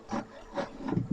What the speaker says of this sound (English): I've cable tied a bit of wire wool to the end of a hammer